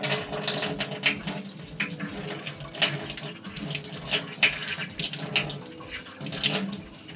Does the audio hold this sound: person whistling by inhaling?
no